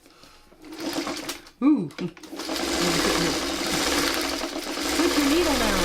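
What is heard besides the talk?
sewing machine stitching quilt blocks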